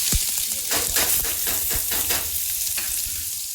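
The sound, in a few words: onions and cumin frying in a pan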